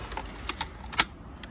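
Car keys jangle and clink in a few short, close metallic bursts as the ignition of a 2013 Honda Accord is cycled.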